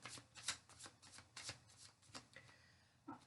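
Tarot cards being shuffled and drawn close up, a series of quiet riffling and flicking bursts repeating in a loose rhythm, soft and intimate with no talking.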